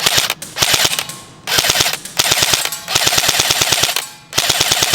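An airsoft M4 carbine rifle with an electric recoil system firing full-auto, loud close rhythmic bursts of rapid clacking shots separated by short pauses, no talking.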